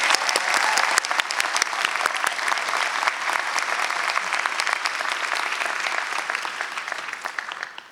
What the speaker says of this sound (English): Audience, please join me in an enthusiastic round of applause in appreciation.